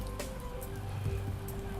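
Rain falls steadily in the video game Headliner, a soft continuous patter spread evenly through the clip, with sustained tonal background sounds running underneath and a slight swell at the end.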